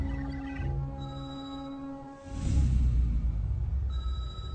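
A phone rings after being called, a steady electronic tone with harmonic bands sounding through the first two seconds, then giving way to louder low rumbling noise, with a faint higher tone returning near the end.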